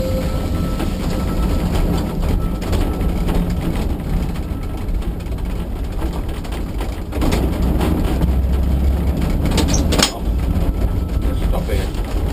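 Manx Electric tram on the line from Douglas to Laxey, a low steady running rumble with rattles and a brief clank near the end, under a man's spoken instructions.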